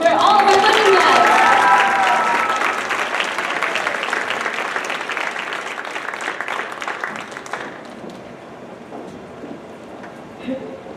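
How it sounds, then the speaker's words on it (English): Applause for the women guests at a China night event, loud and dense at the start, then gradually thinning and fading toward the end, with some voices and crowd noise mixed in. "Can we have a big round of applause for all of our women guests?"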